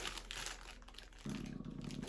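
Plastic packaging bag from a lost Ukrainian postal parcel crinkling and rustling close up, steady handling with a denser crinkle burst in the second half.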